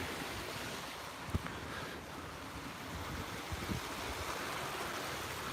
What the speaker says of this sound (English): I love this waterfall here in the morning.